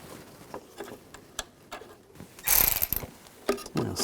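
A bolt is snugged down with a ratchet on a bracket while an AC condenser and receiver drier assembly is fitted on a 2011-2018 Volkswagen Jetta, giving soft clicks and then a louder burst of close ratcheting with no talk.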